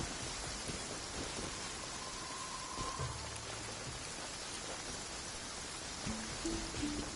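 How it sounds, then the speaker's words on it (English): Rain falls steadily on a courtyard in the video game Genshin Impact, a soft, even hiss of drops, faint and continuous, with occasional slight low rumbles. "I love listening to the rain from the courtyard."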